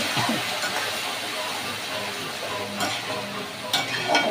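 Tomato curry sautéing in a pan gives a steady, close sizzle of frying with occasional stirring scrapes and a few brief louder bursts near the end.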